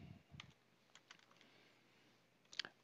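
Quiet computer keyboard typing, a few scattered keystrokes followed by a sharper burst of clicks near the end, close and alone with no voices.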